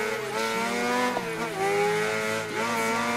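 Carbureted Honda Hornet 600 motorcycle revving hard, its engine note climbing in rising harmonic sweeps with quick dips between gear changes, loud and close throughout.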